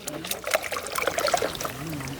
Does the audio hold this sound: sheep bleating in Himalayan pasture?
no